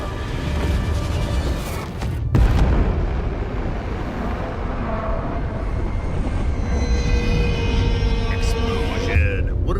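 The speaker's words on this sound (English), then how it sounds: "what a nice explosion anyway" A loud, sustained explosive roar fills a battle in Total War: Warhammer 3, a dense rumbling blast with crackling debris that briefly cuts out and then surges again, continuing throughout.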